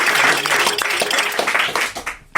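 A studio audience on a French radio-television show gives loud, enthusiastic applause to welcome guest Jacques Ramade, a dense burst of clapping that thins and fades toward the end before a sharp final sound.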